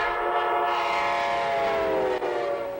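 Amtrak train on the Washington to New York line in New Jersey, sounding a loud sustained horn with rolling rail noise underneath, close and steady throughout.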